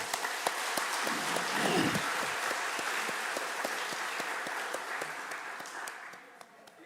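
A church congregation claps for young musicians at a Sunday afternoon praise service, a sustained patter of many hands that thins and fades toward the end, with a brief voice rising near the start.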